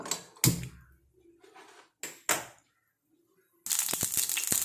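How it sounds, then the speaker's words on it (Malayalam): A kitchen stove is lit under a clay cooking pot: a few sharp, close clicks and knocks, then a steady, louder rushing burst near the end, with faint background murmurs. "ഇനി അടുപ്പ് കത്തിക്കുക"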